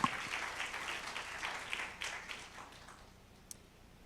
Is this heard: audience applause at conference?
yes